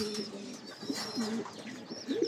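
A racing pigeon coos close by in several repeated low throaty phrases, clear and fairly loud over quiet background, with faint bird chirps higher up and no talking.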